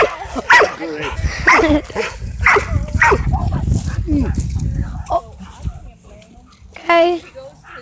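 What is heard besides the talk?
dogs barking during a play date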